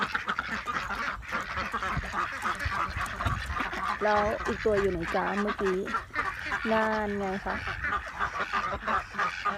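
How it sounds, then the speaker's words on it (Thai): Young ducks under two months old quack in short, nasal bursts, several calls clustered together and then another run a moment later, close by, while someone talks over them. "เป็ดสองเดือนค่ะเป็ดสองเดือน"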